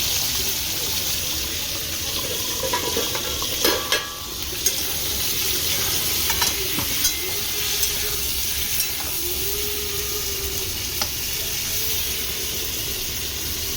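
Pointed gourd (potol) sizzles as it fries in a pan, a steady close crackle with a few faint utensil clinks.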